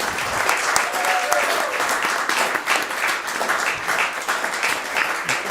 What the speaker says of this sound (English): A round of applause for Darby Ray.